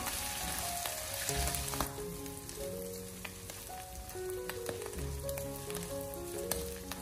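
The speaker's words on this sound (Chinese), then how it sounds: "然后再继续的开小火将它煸炒一下，把酱料的酱香味煸炒出来" Garlic chili sauce stir-fries over low heat in a wok with minced meat and fried tofu, giving a constant close sizzle with scattered light spattering clicks.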